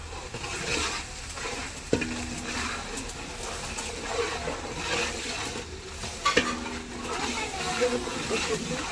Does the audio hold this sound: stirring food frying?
yes